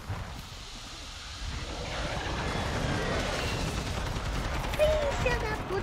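ISO Hemlock rifle fire in Warzone 2, a dense spread of gunshots layered over wind noise and game ambience, growing louder midway with a sharper burst near the end.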